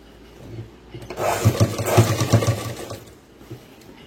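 A sewing machine stitches a boys' school uniform pant in a short run of rapid mechanical chatter that rises and then fades, close up, with no speech.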